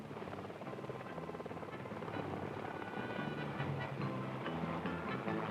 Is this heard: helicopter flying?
yes